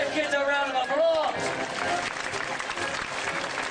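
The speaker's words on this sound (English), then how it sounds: "give these brave kids a round of applause" Studio audience applause and cheering from a TV show, a broad, continuous wash of clapping that starts under a raised voice and then carries on alone at moderate level.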